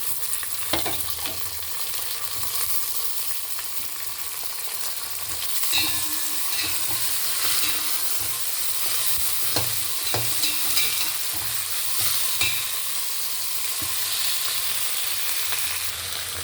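Curry leaves, amaranth greens and onions frying together in a pan, a steady broad sizzle running throughout with occasional sharper crackles and stirring knocks, close and continuous with no talking.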